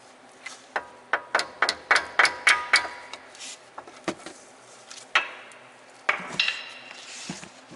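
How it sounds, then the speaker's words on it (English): A hammer lightly taps a brake pad wear sensor on a car brake caliper, giving a quick run of about eight sharp metallic taps, then a few scattered knocks, close and clear, with no voices. "I like to use a hammer and lightly tap it"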